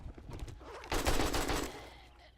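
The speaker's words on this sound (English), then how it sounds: "So I'll use the AK just to wipe them out." An AK rifle fires a short burst of automatic gunfire in the video game 7 Days to Die. The burst is fairly faint and rises over quieter background noise, then fades away.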